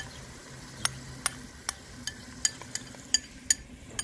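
Grated garlic and ginger stirred in a pan over a rocket stove, a faint sizzle under a series of sharp utensil taps and scrapes against the pan at irregular intervals, close by.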